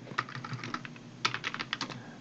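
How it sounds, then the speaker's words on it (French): Typing on a computer keyboard, with steady clicking keystrokes in quick bursts, a brief pause near the middle, then another run of keys, close and alone without talk. "Pour saisir C à partir du clavier"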